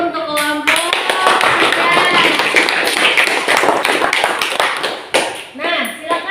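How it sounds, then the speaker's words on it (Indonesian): Loud, sustained applause from a classroom audience for a presenting student group, dense clapping that fills several seconds before fading, with a teacher's voice around it. "Tepuk tangan dulu untuk kelompok."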